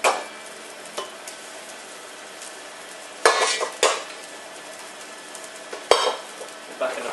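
Mushrooms browning in butter in a pan give a soft, low sizzle, broken by several sharp utensil scrapes and clinks against the pan that come in brief bursts, near and fairly quiet.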